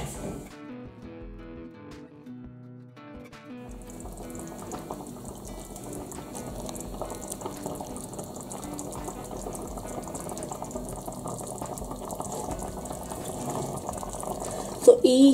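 Chicken soup boiling in a covered pot on the stove, a quiet start that builds into a steady, close bubbling simmer lasting throughout.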